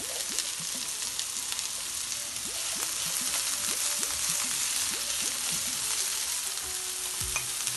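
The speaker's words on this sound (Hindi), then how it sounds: "बस सौते करना है हल्का सा। शिमला मिर्च डालेंगे" Capsicum sautés in a pan with a dense, bright sizzle throughout, while repeated spatula strokes scrape and stir it in an uneven rhythm, close and with no voices.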